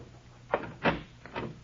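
In an old-time radio drama, a wooden door is opened with a few soft knocks and creaking thumps in quick succession, close and fairly quiet, without voices.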